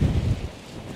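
Strong wind blowing at sea in rough waves, a loud low buffeting rumble that is heaviest at the start and then eases into a steadier, gusty roar, with no talk.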